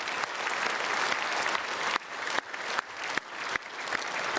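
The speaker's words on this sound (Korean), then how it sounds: "우리 박수로 환영하겠습니다" A church congregation applauds in a sustained wash of many hands, slightly distant and reverberant, with a few sharper claps standing out from the steady roar.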